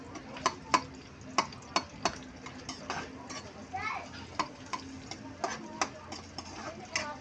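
Garlic and onion sautéing in oil, soft frying crackle under a voice, with sharp periodic clicks and taps from a utensil against the pan, close and fairly quiet.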